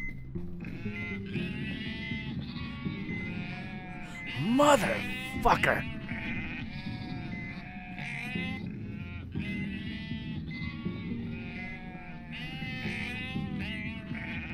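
Sheep in the video game UnMetal bleat repeatedly in wavering cries, some loud and close, over game music, with someone shouting briefly midway.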